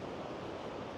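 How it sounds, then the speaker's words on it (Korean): Steady broadband water roar from a waterfall close at hand, continuous and even in loudness without any pauses, heard alone along a walking path in Taiwan. "바로 옆에 폭포 소리?"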